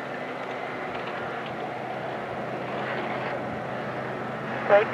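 Swiss Airbus A330-300 jet at Val-d'Or airport before take-off, giving a steady, fairly distant engine roar and rumble that holds even for the whole stretch, with faint voices in the background.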